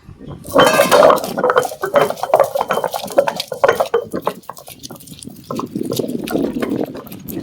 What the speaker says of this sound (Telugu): రుబ్బురాయి వేసి పచ్చిమిర్చి ధనియాలు జీలకర్ర ఇంగువ వేసిన ముందు వేసి రుబ్బేసుకుందాం.